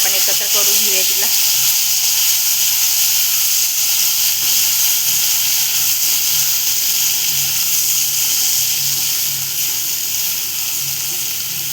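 Raw jackfruit (kadgi) cooking in a pan for an Alibag-style vegetable dish, giving a loud, steady sizzle and hiss that goes on unbroken, with a brief clatter at the start.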